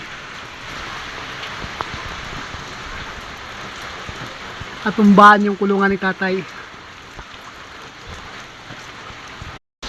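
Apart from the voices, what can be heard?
heavy rain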